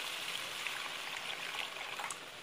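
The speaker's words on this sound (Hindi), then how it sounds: "अब इस स्टेज में आपको इसमें पानी डालना है" Water pours steadily into a cooking pot of tomato-onion gravy for a chicken kofta curry, a soft continuous splashing rush that stays fairly faint throughout.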